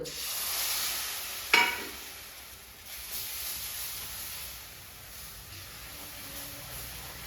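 Milk poured into gram flour (besan) roasting in a pan for halwa, giving a brief sharp hiss at the moment it lands, then a steady soft sizzle and frying crackle that carries on alone with no talk.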